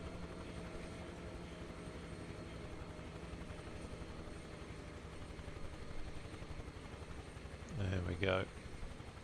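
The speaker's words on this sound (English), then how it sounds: "What a beautiful helicopter." A UH-1H Huey helicopter flies in Microsoft Flight Simulator, a low, steady rotor and engine drone running throughout at low level, with someone speaking briefly near the end.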